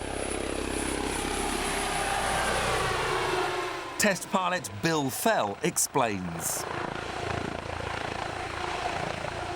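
A Comanche fly-by-wire combat helicopter drones steadily with a broad engine and rotor roar throughout, while someone talks over it briefly in the middle.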